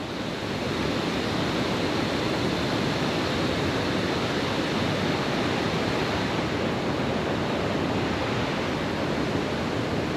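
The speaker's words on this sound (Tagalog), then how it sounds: "May maliliit na waterfalls." Small waterfalls pour steadily along a trail in Dingalan, Aurora, making a dense, unbroken rush of water that stays loud and even throughout, with no voices.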